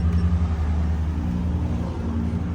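Diesel engine of an Isuzu FRR210 truck fitted with a Dinobox electric throttle, a steady low rumbling idle with slight revving swells, close and continuous with no talk.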